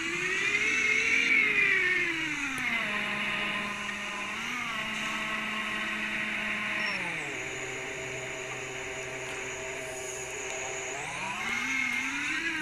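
Cars in the video game 3DdrivingGame give off a steady synthetic engine drone whose pitch rises and falls as they accelerate and slow, with a continuous whirring hum and no talking.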